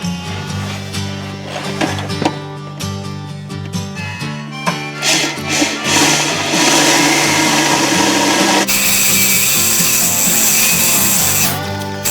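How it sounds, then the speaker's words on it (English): A power drill with a 9/32 inch bit bores a hole while a 2020 Ram 2500 Cummins gets a leveling kit, a steady whining motor grinding close and loud for about twelve seconds, rising harsher partway through. "And we stepped up to a 9/32 inch bit."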